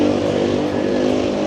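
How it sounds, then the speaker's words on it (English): Small moped-style motorbike engine on a lively downtown Toronto street on a warm evening, a loud, steady buzzing drone held close by for the whole moment. "That little moped-looking thing made all that noise."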